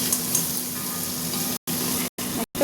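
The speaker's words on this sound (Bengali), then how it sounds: "উচ্ছে আলু ভাজছি।" Bitter gourd and potato pieces sizzle steadily in oil, a dense broadband crackle that runs close and continuous, broken by three brief silent gaps near the end.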